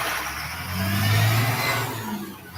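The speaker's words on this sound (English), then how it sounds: "this truck's kind of loud and distracting there." A loud truck engine rumbling close by as it passes on a road, swelling in the middle and easing slightly toward the end, with no talk over it.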